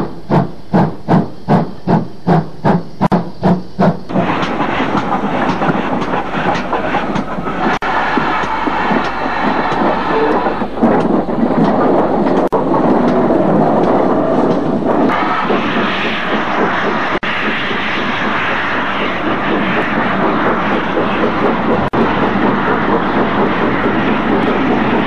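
GWR Castle Class steam locomotive 5017 St. Martin opens with a rapid run of loud, evenly spaced exhaust chuffs, then settles into a sustained roaring hiss of escaping steam, close by.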